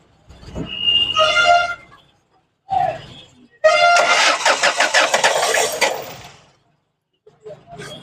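A Ford Figo with a hard-starting, misfiring engine and faulty injector cranks and catches up close, with repeated starter whirs and uneven revving bursts separated by short gaps.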